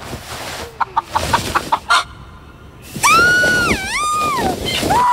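A hen clucks in a burst of short, sharp calls nearby, followed by a loud, drawn-out squawking call that rises and wavers, in a domestic night-time scene.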